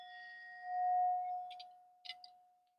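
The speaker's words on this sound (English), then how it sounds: "I'm gonna go ahead and end it with a little bowl." A small singing bowl struck at the close of a meditation session rings with a sustained pure tone that slowly fades, with a few soft clinks near the end.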